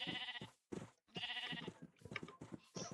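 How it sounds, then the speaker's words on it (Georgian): Sheep bleat in the video game Minecraft: several loud, wavering nasal bleats come in quick succession, separated by brief silences. "ამდენი ღორი და ცხვარი"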